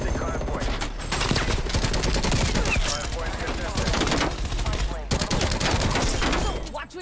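Rapid automatic gunfire in Call of Duty Black Ops Cold War, dense sustained bursts of shots filling almost the whole stretch, loud and close, with a brief pause near the one- and five-second marks.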